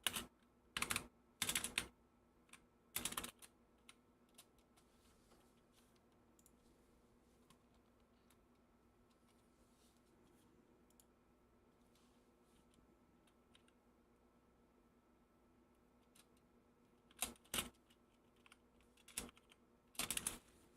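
Bursts of typing on a tiny computer keyboard during an Arduino car-backlighting hack, short clusters of sharp key clicks near the start and again near the end, separated by a long quiet stretch of low hum.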